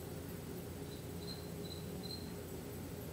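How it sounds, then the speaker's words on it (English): Crickets chirp indoors, a few short high trills repeating faintly over a quiet background hiss. "Crickets don't go out in the open. Do you hear them? Can you hear them?"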